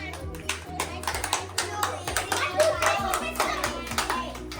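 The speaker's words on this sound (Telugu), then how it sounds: "నువ్వు 7 క్లాప్స్, 7 క్లాప్స్ కరెక్ట్గా కొట్టాలి ఎవరైనా" Children clap in a birthday party counting game, a rapid scatter of sharp hand claps from a small group at close range, uneven rather than in unison, with faint chatter underneath.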